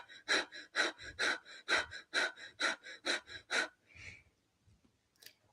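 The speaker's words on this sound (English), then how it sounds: "so it's panting but through the nose, so your mouth is closed and you're doing it, you're forcefully exhaling just with your nostrils." Rapid, forceful exhalations through the nose with the mouth closed, about a dozen sharp rhythmic puffs of panting close by, then a slower breath and near silence.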